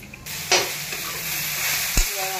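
Spice tempering sizzles in a pan for Marathi-style sabudana khichdi, a brief crackling fry with a couple of sharp stirring clinks, fairly quiet and without talk.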